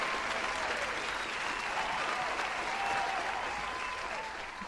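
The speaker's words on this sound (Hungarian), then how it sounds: "Igen, ez egy tapsot megérdemel." Steady applause, a dense and even wash of clapping from a game's cutscene audience, moderately loud and unbroken throughout with no voices on top.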